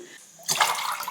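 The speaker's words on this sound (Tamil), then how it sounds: "அதுக்கு தண்ணி தேவை இந்த கப்பில்." Water poured into a cup in a home kitchen before heating on a stove, a quiet lead-in followed by a sudden gurgling splash that continues close up for about a second.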